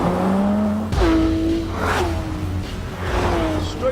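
A Porsche 911 GT3 RS with a naturally aspirated 4-litre flat-six engine revs hard and accelerates, its rising engine note loud and close, with a brief whooshing surge partway through.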